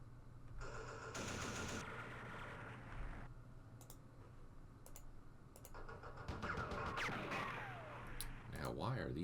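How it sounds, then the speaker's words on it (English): Machine gun fire in the war strategy game Campaign Series Vietnam, bursts of rapid clattering shots that come and go over several seconds, with clicking and a voice talking over parts of it. "The machine guns."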